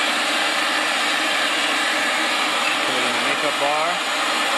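A pipe threading machine cutting threads on steel pipe roars steadily and loudly throughout, a dense mechanical drone that holds its level to the end while someone speaks briefly over it.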